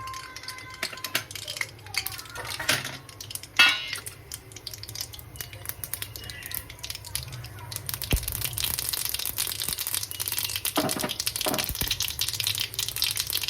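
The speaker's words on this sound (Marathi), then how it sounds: "आता बघा कढईमध्ये तेल आणि मोहरी घातली" Mustard seeds dropped into hot oil in a wok for a spicy tomato and green chilli thecha, giving broadband crackling and spattering that grows denser and louder in the second half, with scattered sharp pops.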